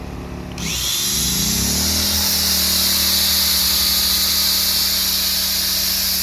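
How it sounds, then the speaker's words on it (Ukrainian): An angle grinder spins up with a rising whine and then runs at a loud, steady high-pitched drone, close by, with no one talking. "І зараз відчуємо, як працює болгарка."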